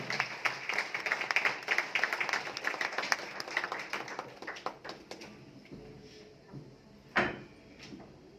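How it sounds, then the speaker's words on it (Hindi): Enthusiastic applause from an audience at a Shirdi celebration event welcomes a speaker onto the stage, dense clapping for about five seconds that gradually thins out into scattered claps and then stops. "जोरदार तालियों से स्वागत हो जाए"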